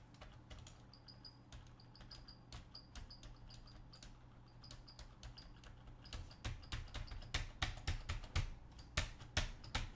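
Clicking keys of a non-mechanical computer keyboard being typed on, with a steady patter of close taps that grows louder and denser toward the end.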